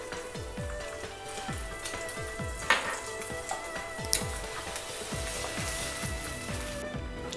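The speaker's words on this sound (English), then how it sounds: "In the same pan I'm going to make scrambled eggs." Scrambled eggs seasoned with salt and pepper sizzle steadily in a pan used earlier for noodle prep, a continuous crackling hiss with a couple of louder pops and clicks, no talking.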